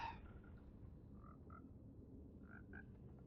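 Green frog croaking in the Minecraft video game, several short soft croaks in pairs spaced through a quiet ambient background, faint and alone with no talking.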